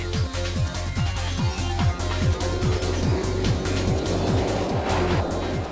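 A motorcycle on a long wheelie run accelerates up through the gears, the engine note climbing and dropping at each shift in a steady repeating pattern, loud and close throughout.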